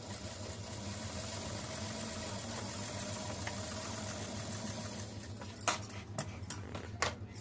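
Sewing machine running steadily while stitching alongside embroidery on a dress, a continuous mid-pitched motor hum with a few sharper clicks near the end.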